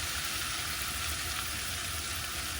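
Butter sizzling and frothing in a pan, a dense, steady crackling hiss that stays loud and even throughout.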